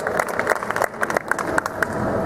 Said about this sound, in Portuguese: Queria pedir uma salva de palmas para o Everto